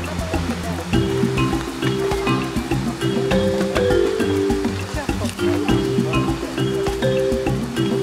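Water at Golitha Falls in Cornwall rushes and splashes continuously nearby in a wooded setting, while a person talks over it.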